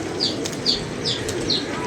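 Pigeons' wings flap in four quick, evenly spaced bursts, close and moderately loud over a soft, steady background hiss, with no talking.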